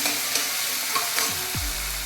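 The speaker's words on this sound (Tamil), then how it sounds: "தக்காளி நல்லா வதங்கணும்." Tomatoes sautéing in a pan as they cook down to a paste, a close, continuous frying sizzle with a few light stirring scrapes and no voices.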